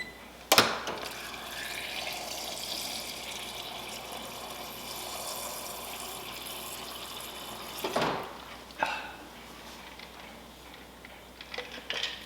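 Cold water runs steadily from a refrigerator dispenser into a glass, a continuous hiss and trickle lasting several seconds, with a couple of sharp clunks and short bursts near the end.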